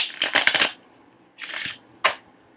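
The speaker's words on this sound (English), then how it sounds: "This is playing card or poker size deck, so it shuffles like a dream, of course." A poker-size playing card deck riffle shuffled in the hands, with a long crisp flutter of cards followed by two shorter bursts, close and fairly loud with no voices.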